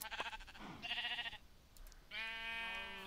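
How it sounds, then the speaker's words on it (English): Two clear bleats from a video game sheep being sheared, fairly quiet and separated by a short gap, with the second call longer and more tonal. "Shear a few more sheep."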